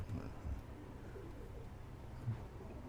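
Teddy pigeons coo softly nearby, giving a couple of low, throaty coos over a murmuring background with faint voices.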